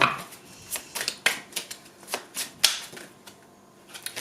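Oracle cards are shuffled by hand close up, producing a series of sharp papery slaps and riffles in irregular bursts, each fading quickly, with quiet gaps between them.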